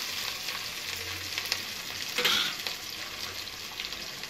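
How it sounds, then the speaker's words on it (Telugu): Onions, green chillies, coriander stems and curry leaves fry in a pan with a dense, even sizzle up close, broken by a brief louder crackle partway through. "కొంచెం లైట్గా ట్రాన్స్పరెంట్గా వచ్చేసి ఉల్లిపాయలు వేయించుకోవాలి."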